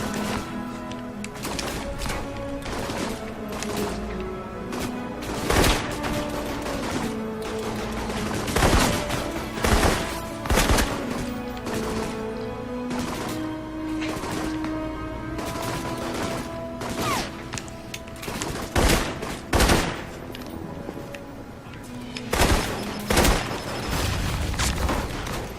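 Sustained firefights in the video game Alpha Protocol bring rapid machine-gun bursts, single shots and occasional booms over a continuous musical score, loud and busy throughout.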